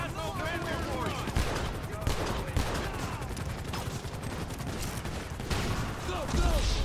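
Rapid gunfire in Grand Theft Auto V rattles continuously at moderate loudness, with shouted voices mixed in throughout the firefight.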